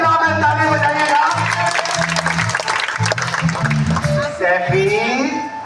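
Studio audience on the Jeeto Pakistan game show applauds steadily with crowd noise, while loud music plays over the clapping for the whole stretch.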